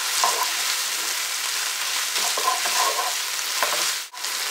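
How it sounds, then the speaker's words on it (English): Ground meat and ketchup sautéing in a pan for a cottage pie, giving a constant close hiss of frying with occasional stirring scrapes and no talk. "I'm going to allow that to sauté for about a minute or so, just to incorporate that ketchup into there"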